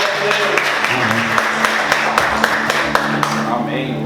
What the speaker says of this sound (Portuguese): Vamos glorificar e aplaudir Jesus com muita alegria